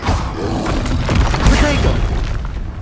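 Confringo blasting spell explosion in the Hogwarts Legacy video game, a loud continuous booming roar with crackling debris and low thuds, while a voice talks over it.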